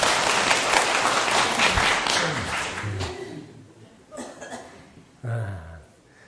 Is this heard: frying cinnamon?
no